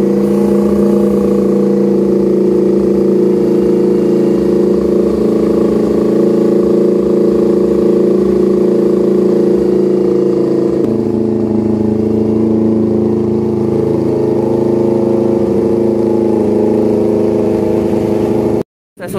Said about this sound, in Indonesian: Di proses cleaning ini kita angkat RPM sampai 3000 RPM.